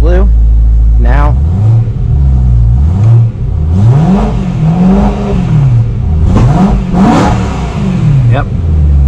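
A BMW M3 engine revs repeatedly through a hand-control accelerator, its pitch rising and falling in loud close swells while a person talks over it.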